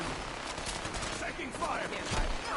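Gunfire in the post-apocalyptic game Fallout 4: a dense run of shots crackling over a noisy, busy mix, with a voice talking over parts of it.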